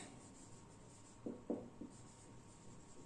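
Faint writing on a board during an accounting class, a few short scratchy strokes clustered in the middle over quiet room tone.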